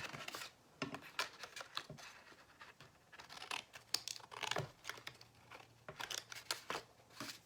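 Scissors snipping through paper card for a honeybee gift box card, a run of sharp crisp cuts in irregular bursts, close and fairly quiet, with some rustling between them and no talk.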